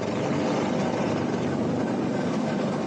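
A rescue helicopter over flooded ground in Brazil, heard as a steady, dense rotor and engine roar that holds constant throughout, with no voices.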